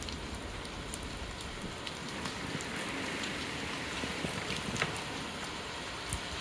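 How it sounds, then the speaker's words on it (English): Rain pounds steadily on a shed roof during a flood, a dense even hiss of drops with occasional sharper taps and no voices. "They could still hear the rain battering down on the shed roof."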